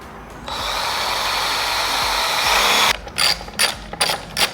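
A ratchet or power tool cranks a nut and bolt tight on a carbon fiber front lip splitter of an F30 BMW M Sport, a steady loud mechanical whir for about three seconds, then short, choppy bursts of clicking.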